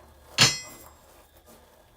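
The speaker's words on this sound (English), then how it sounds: "I like the sound of the hammer on an anvil." A hammer strikes an anvil once, a sharp bright metallic clang that rings and slowly decays, heard alone and fairly close.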